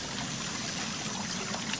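Hot water runs from a shower in a fancy cabin in the game Until Dawn, a constant close rushing hiss of spray with no voices over it.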